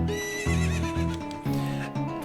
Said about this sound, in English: we can do this because we have the awesome horse.